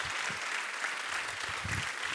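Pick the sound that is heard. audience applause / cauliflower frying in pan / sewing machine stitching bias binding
audience applause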